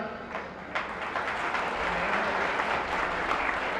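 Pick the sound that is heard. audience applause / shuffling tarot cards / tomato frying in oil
audience applause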